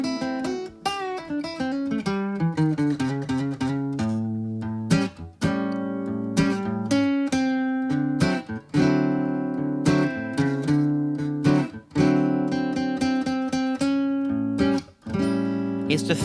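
An acoustic-style guitar plays a blues chord progression, strummed and picked chords ringing clearly and alone with short pauses between changes that shift the chord's third from major to minor.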